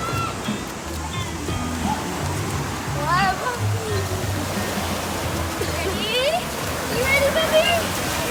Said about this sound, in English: In the wave pool.